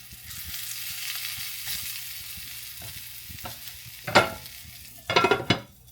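A hot dog sandwich with cheese frying in a non-stick pan gives a steady soft sizzle, with a few sharper scraping stirs near the end.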